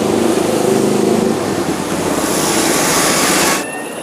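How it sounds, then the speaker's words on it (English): Busy city street traffic with cars and buses driving by makes a continuous, dense rumble of engines and tyre noise, fairly loud and steady for a few seconds before it drops away, with no speech. "Just a bit more sound of the traffic in the city."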